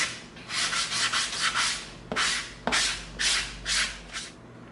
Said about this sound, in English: we're gonna come in with our 220 sanding stick, and we're gonna try to get some of these bandsaw marks off